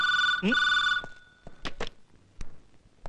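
Telephone bell ringing in a Malayalam comedy scene, a bright electronic trill sounding in short bursts at the start, then stopping as a man picks up and speaks.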